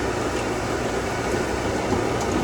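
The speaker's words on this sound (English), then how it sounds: "My hair dryer is providing heat." A steady, close whooshing roar of a hair dryer heating cacao nibs during home chocolate making, blowing continuously at constant loudness, with no breaks or talking.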